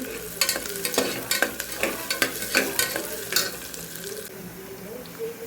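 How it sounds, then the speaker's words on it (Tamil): Onions sautéing in a pan for tomato rice, with green chillies already in, give a steady sizzle broken by repeated scraping stirs, close and moderately loud, and no one speaks. "வெங்காயம் நல்லா வதங்கணும்"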